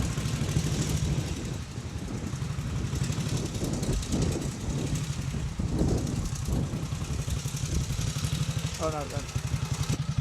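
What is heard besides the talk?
1942 Norton 16H motorcycle engine running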